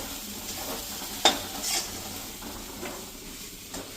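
Puffed rice khichdi is stirred in a pan with a spoon, giving soft scraping and a few sharp clinks against the metal over a faint background sizzle, with no voices.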